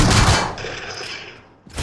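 Loud, close video game gunfire: a rapid automatic burst that trails off into fading echoes, then more shooting kicks in at the end.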